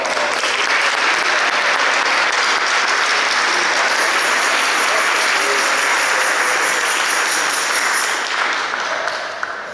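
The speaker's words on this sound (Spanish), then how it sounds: "Aplausos." A church congregation at a charismatic Mass applauds in a long, loud, even wash of clapping that fills the room and continues without pause.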